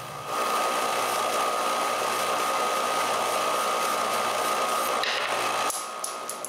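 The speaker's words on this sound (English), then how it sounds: "When the glue is dry, I finish the sanding." Power sander finishing a wooden intarsia piece, a steady high buzzing whir close by that runs for about five seconds before changing tone and winding down.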